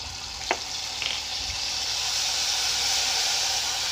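Ginger garlic paste with asafoetida frying in hot oil for Bombay potatoes, a steady bright sizzle and hiss that swells and holds, with a few faint clicks early on.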